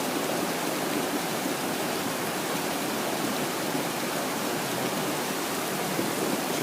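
A powerful waterfall on a river in flood, a dense, steady roar of rushing water that holds at a constant level throughout, with no voices.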